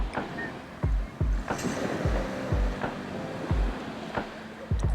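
Sea waves wash in a relaxing ambience, a soft continuous surf hiss broken by regular low thuds and splashes roughly every half second to second, moderately distant and calm with no voices.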